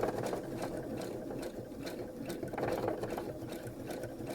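A sewing machine runs steadily while outlining a quilt block, its continuous mid-pitched motor whir and rapid needle chatter holding at even loudness throughout with no pauses.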